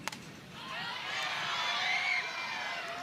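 Distant crowd cheering and shouting at an outdoor softball game on a hot, windy evening, a broad sustained roar that swells and holds for a few seconds with some high voices standing out.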